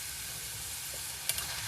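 Asafoetida (hing) dropped into a hot pan of oil while cooking a wild village vegetable dish, giving a steady faint sizzle and hiss, with a couple of light taps near the end.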